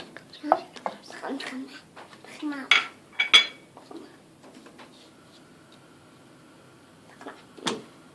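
Pots and utensils clatter and clink in scattered bursts close by as oil and milk go into a cooking pot for flour halva, while someone talks throughout.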